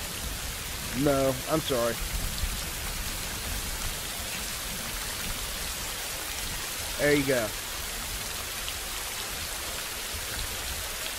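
Steady rain falls in the Rising World video game, a constant wash of drops on surfaces throughout, with brief speech from a person twice over it.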